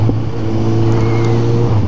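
A motorcycle engine carries its rider along with a steady, close and loud droning hum, its tone holding nearly constant for the whole short stretch with no voices over it.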